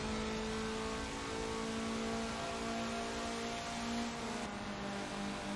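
Mazda Miata (MX-5) race cars run down the front straight at Road America during a championship race, a steady broad engine roar with sustained harmonic whine, fairly distant and constant throughout.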